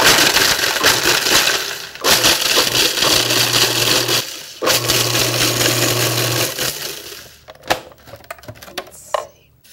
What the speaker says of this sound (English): way to pulverize them into crumbs is to use a food processor